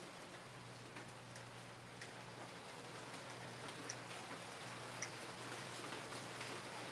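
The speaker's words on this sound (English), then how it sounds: "Can you guys hear the rain?" Rain falls outside, a faint, steady patter with scattered drip ticks over a low indoor hum.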